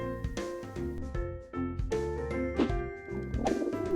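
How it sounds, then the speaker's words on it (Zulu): A pigeon coos in repeated soft, throaty phrases, close and clear, with no voices around it. "Ijuba."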